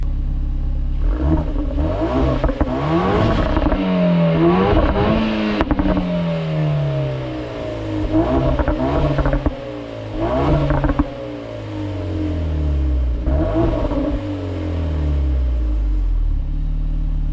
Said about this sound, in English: Now we'll give you some exhaust revs.